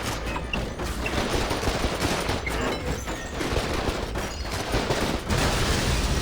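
Dense, continuous bursts of rapid gunfire crackle throughout in the video game Spider-Man: Web of Shadows, several weapons firing at once at point-blank range in a loud, sustained barrage with no talking.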